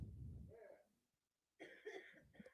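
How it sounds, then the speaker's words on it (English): An audience member coughs at a comedy open mic, a few harsh bursts close by, then a short quiet gap and another cluster of coughing and throat noise. "Don't be coughing during my performance."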